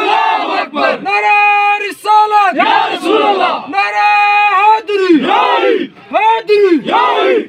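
A large crowd at a Pakistani Punjab police gathering bellows a Takbir chant in unison, repeated loud rhythmic shouts of call and response that are close and powerful.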